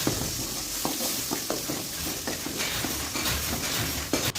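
Onion, garlic and asafoetida sizzling steadily in a hot pan with occasional scrapes and clinks of a spoon stirring.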